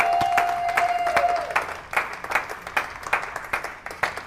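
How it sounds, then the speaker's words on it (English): At a high school charity auction dinner, guests applaud after a sale: scattered, uneven claps from a modest crowd, moderately quiet, with a faint tone fading out early. "Let's give them a big round of applause."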